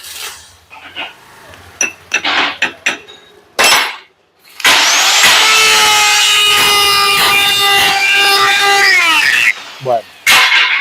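A power tool polishes the king pin of a Nissan MT3000 front axle, giving a steady high-pitched whine for about five seconds after a stretch of talking and a few clinks of handling.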